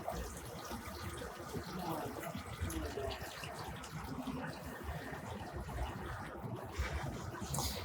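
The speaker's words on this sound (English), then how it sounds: "we can see the water coming down onto the roots." Steady rushing and splashing of water pouring down from a pipe onto plant roots, continuous and fairly loud throughout, with faint voices in the background.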